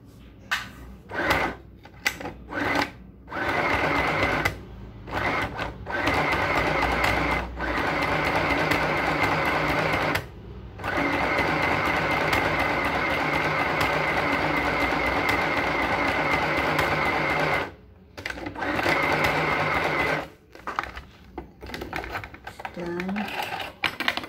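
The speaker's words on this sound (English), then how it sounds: "I will show you now the way the zigzag is stitching." A sewing machine runs a zigzag stitch along the shoulder of a blouse, a rapid mechanical rattling that runs in long bursts separated by brief stops, with a person speaking between and over the runs.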